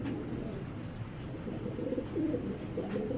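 A pair of Giribaz pigeons cooing softly, low murmuring coos repeating over a steady background hum, fairly faint and close.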